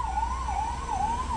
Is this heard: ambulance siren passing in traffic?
yes